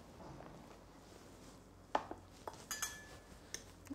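A metal spoon scraping and clinking against a foie gras terrine and its dish, with a few sparse, faint taps and scrapes after a quiet start.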